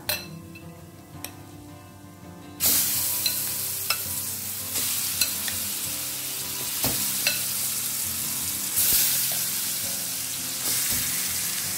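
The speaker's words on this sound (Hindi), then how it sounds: "आता हें घोटा न्ही बरें तेलान न्ही बरें मिक्स करून घेवया" Ripe mango pieces stirred into hot oil with mustard seeds and curry leaves for a Goan sweet-and-sour sasav, sizzling steadily with a spoon scraping and clinking against the pan, close and alone.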